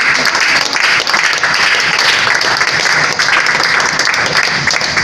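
A church congregation claps in loud, dense, continuous applause for God during a healing service, a sustained wash of hands with no break.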